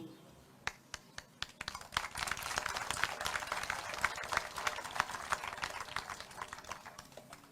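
Crowd applause at an Armenian political campaign speech by Robert Kocharyan. A few sharp scattered claps come first, then they swell into dense, sustained clapping from a large audience that continues to the end.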